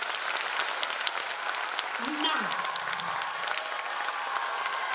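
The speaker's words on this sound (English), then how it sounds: "let's give them a very big round of applause" An audience at a Platinum Jubilee celebration applauds a performance with steady, fairly quiet clapping, and someone speaks a single word briefly over the applause midway.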